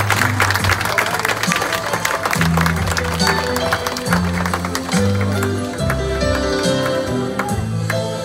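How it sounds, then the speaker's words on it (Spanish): Guests at a quinceañera clap for a court couple, steady crowd applause running under loud dance music with a thumping bass line throughout. "Un aplauso fuerte para ellos."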